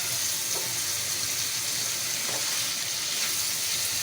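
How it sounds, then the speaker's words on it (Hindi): Masala goat liver fries hard over a high flame, giving a loud, steady sizzle that fills the whole stretch with no talking. "अभी भी तेज फ्लेम पर हमने इसको फ्राई करना है जब तक कि इसका ऑयल नहीं बाहर आ जाता।"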